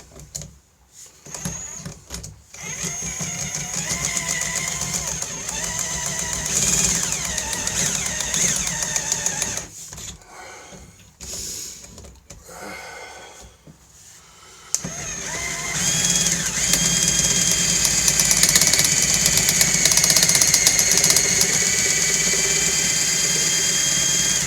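A power drill fitted with Makita bits bores into a screw head during a drill chuck repair, its motor whining steadily with pauses and restarts, growing louder and higher in pitch toward the end.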